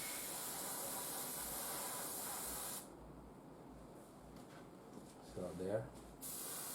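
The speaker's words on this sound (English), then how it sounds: "It's more on how you control your airbrush." Airbrush spraying a thinned paint mixture, a steady close hiss that cuts off midway, with a brief spoken remark near the end.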